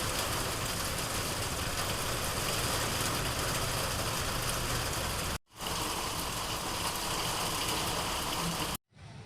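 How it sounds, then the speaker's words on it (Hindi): Heavy rain pours down in Lucknow in a dense, constant hiss of drops on surfaces, broken by two brief, sudden dropouts of near-silence. "अब लखनऊ में घंघोर बारिश हो रही है"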